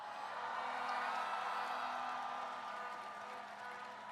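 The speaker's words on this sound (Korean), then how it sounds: "힘찬 함성과 박수 부탁드립니다." Outdoor presidential campaign rally crowd in Yongsan, Seoul, cheering and clapping for Lee Jae-myung, a fairly distant, even roar of applause and shouts that holds steady throughout.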